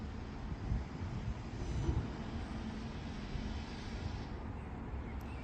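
A British Rail Class 150/0 prototype diesel multiple unit, formerly with GWR, rumbles through Meadowhall station with a steady broadband engine and wheel roar, moderately loud and constant throughout.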